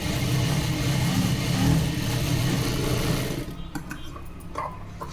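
A sewing machine stitches a princess-cut blouse, its motor whirring in a steady rapid run for about three seconds before stopping, followed by a few light clicks and taps.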